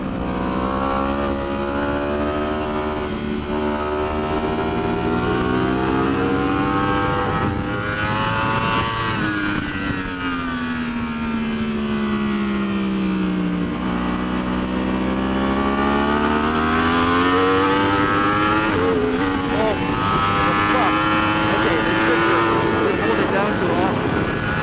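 A 2015-or-later Yamaha R1 superbike on Ridge race track, its engine howling loud and close as revs rise and fall through gear changes, with repeated sweeping climbs and drops in pitch.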